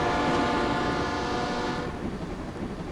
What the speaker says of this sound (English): We take the train from Oslo to Copenhagen.